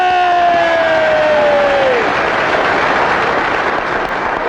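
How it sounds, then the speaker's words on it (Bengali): A crowd at a comedy-style election campaign gathering breaks into dense, sustained applause, loud and steady throughout, with a falling whistle-like tone sliding down over the clapping in the first two seconds. "হাততালি!"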